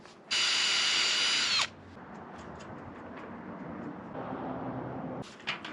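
A power tool driving a bolt into a homemade PVC T-handle shifter on a 4x4 covered wagon, heard as one loud, high whine lasting just over a second, then quieter handling noises and a short final burst.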